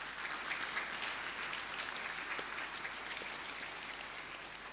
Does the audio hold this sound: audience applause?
yes